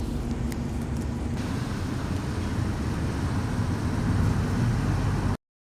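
A steady, droning engine rumble fills the whole stretch, low and even, like riding inside a moving car in Dubai, before cutting off abruptly.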